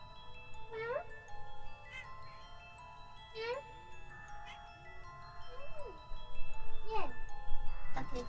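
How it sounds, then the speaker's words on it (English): A house cat meows several times, short rising and falling calls spaced a few seconds apart, heard over soft background noise and a faint voice in a quiet room. "You could probably hear my cat like meow in the background"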